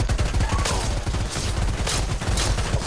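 Sustained, dense automatic gunfire fills the scene in the game Predator: Hunting Grounds, with rapid overlapping bursts and loud cracks that continue without pause.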